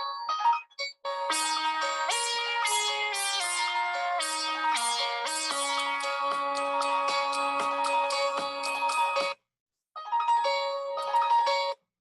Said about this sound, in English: that's my default ringtone